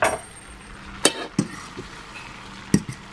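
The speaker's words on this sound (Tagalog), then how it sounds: "Haluin muna natin." Spaghetti sauce being stirred in a pot on the stove, a low simmering sizzle broken by a few sharp clinks and scrapes of the spoon against the pot.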